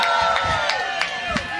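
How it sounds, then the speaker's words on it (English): Crowd at the NYC St. Patrick's Day Parade cheering and shouting from a distance, a steady blended roar with a few brief louder swells. "And we're getting a good cheer from them there."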